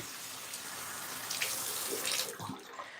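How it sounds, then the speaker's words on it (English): Tap water running steadily into a sink while a rag is rinsed under it, with splashing and sloshing rising toward the end, close and fairly quiet. "so I've got my rag rinsed"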